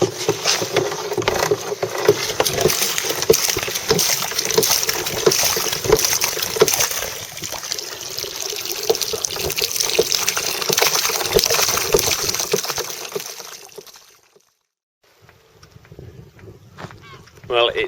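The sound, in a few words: pumping water out of a leaking boat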